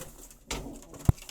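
Pigeons kept by a hobbyist give short, soft coos and low throaty bursts close by, with a brief louder coo near the end.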